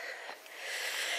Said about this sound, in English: the wheeze would probably go